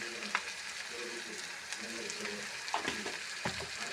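Ingredients for a pappadam curry sizzle steadily as they fry in a pan, with a spoon scraping and stirring through them in occasional sharper knocks; close and continuous, no voices.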